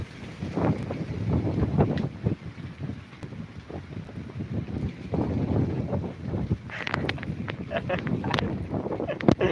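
Gusty wind buffets the microphone in low, uneven roars while people talk nearby.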